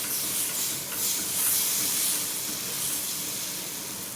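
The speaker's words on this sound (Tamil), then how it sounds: "இப்போ இதில் தோசை ஊற்றலாம்." Ragi dosa batter hisses and sizzles on a hot pan as a steady, close, broadband frying hiss that swells slightly and then settles, with no talking.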